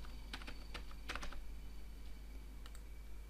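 Computer keyboard typing in a few quick bursts of clicky keystrokes, close and fairly quiet, with short pauses between and no talking.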